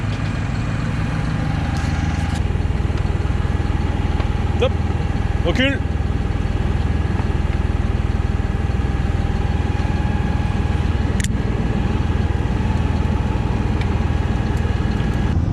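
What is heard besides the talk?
tractor engine idling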